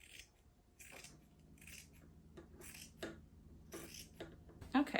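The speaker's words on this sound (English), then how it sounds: "now let's just cut this a little bit deeper" Scissors cut through tablecloth fabric in a series of distinct, crisp snips at an uneven rhythm, close and fairly quiet, ending with a sharper click.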